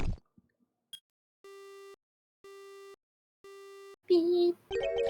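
Three evenly spaced electronic phone-call beeps in a video game, each a clean steady tone about half a second long, followed by short bursts of garbled voice-like noise at the end.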